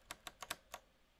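Five quick keystrokes on a computer keyboard, close and quiet, tapped in an uneven rhythm.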